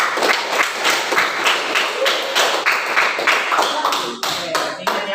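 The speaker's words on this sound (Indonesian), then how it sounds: "tepuk tangan untuk temannya kelompok 3" Classroom students clap in applause for a fellow student group, a loud, sustained patter of many hands close by with no talk over it.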